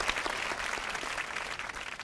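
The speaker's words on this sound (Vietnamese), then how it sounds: "Vỗ tay." Studio audience applause on a Vietnamese dating show, a dense, steady wash of many hands clapping, fairly loud and continuous throughout.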